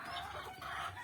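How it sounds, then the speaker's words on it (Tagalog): Backyard chickens cluck softly in a faint, brief burst of low murmuring calls, heard at a distance. "Ito po ang aking mga manok."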